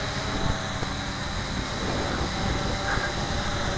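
The motors of a Cheerson CX-20 quadcopter keep running after landing, a steady loud buzzing drone with rough low rumble and no pauses.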